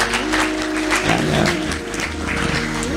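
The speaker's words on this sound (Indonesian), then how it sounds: "Tepuk tangan kalian" Audience applause at an Islamic religious gathering and lecture at a pesantren, clapping heard under sustained music and background noise, with the clapping moderately loud and continuous.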